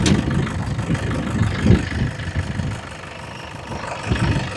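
Steady low rumble of a 2015 Toyota Innova G variant engine at idle, close by and continuous, with a smooth rhythmic beat that swells slightly and dips midway.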